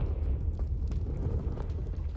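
Spell explosion in a Hogwarts video game: a low, rumbling blast with crackling bursts, sustained and fairly faint, with no talk.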